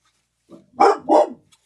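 A dog gives two loud, close barks in quick succession, preceded by a softer grumble and followed by silence, with no one speaking over them.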